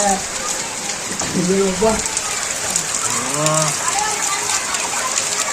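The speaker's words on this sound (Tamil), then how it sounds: "மக்களே இந்த மாதிரி மழை பெஞ்சு இப்படி இருக்குது" Heavy rain from Cyclone Fengal falls over a flooded village near Tiruvannamalai as a steady hiss, while voices speak on top of it.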